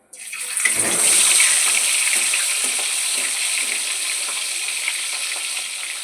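Rupchand fish dropped into hot mustard oil sets off a loud, sudden burst of sizzling that settles into a steady, bright frying hiss lasting several seconds, with no talking.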